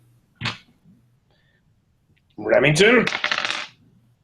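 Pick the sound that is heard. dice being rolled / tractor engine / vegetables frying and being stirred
dice being rolled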